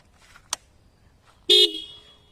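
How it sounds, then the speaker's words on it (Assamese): A Bajaj Pulsar 220F BS6 motorcycle horn gives one short, loud honk after a faint click, then its tone trails off. "তো হৰ্ণ আমি অলপ সাউণ্ডটো শুনি চাওঁ কেনেকুৱা"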